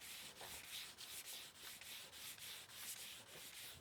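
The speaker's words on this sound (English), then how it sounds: "I'm sanding along the waterline, making sure that I sand where the tape line was" Sandpaper rubs by hand along the waterline of a painted boat hull in quick, regular back-and-forth strokes, close and faint, with no voices.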